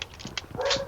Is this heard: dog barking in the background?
yes